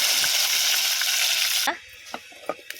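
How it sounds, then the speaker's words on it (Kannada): Broken dry red chili and curry leaves crackle in hot oil where mustard seeds have already spluttered. A loud, dense sizzle drops to a quieter fizz punctuated by a few sharp pops. "ಸಾಸಿವೆ ಸಿಡಿದ ಮೇಲೆ ಒಂದು ಒಣ ಮೆಣಸನ್ನು ಈ ರೀತಿ ತುಂಡು ಮಾಡಿ ಹಾಕಿ ಸ್ವಲ್ಪ ಕರಿಬೇವು ಕೂಡ ಹಾಕಿ"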